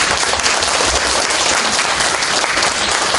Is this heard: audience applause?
yes